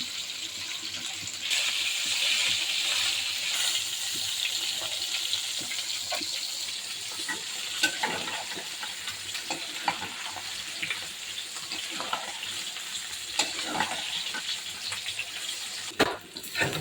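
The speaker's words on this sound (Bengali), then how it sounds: "এই যে বাচ্চা ফ্রাই প্যানে রুই মাছ ভাজতে দিয়ে দিয়েছি।" Rohu fish fries in a frying pan with a steady, close hiss and sizzle, scattered crackles and pops throughout, and a brief clatter near the end; no voices.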